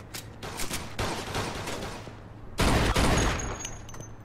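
Gunfire in Mafia II comes as close, loud bursts of rapid shots, with a short pause before a heavier volley that then fades.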